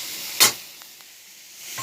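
Ginger, onion and garlic paste are stirred in hot oil, producing one sharp burst of sizzle with a couple of faint taps and then a quiet hiss.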